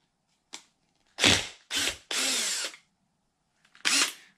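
A socket on a power tool loosens a part on an Arrma Kraton RC car in five short, loud whirring bursts separated by silent gaps, with no talk.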